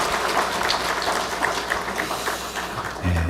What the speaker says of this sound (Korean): 하나님 앞에 영광의 왕 하나님께 영광 박수 올려드리겠습니다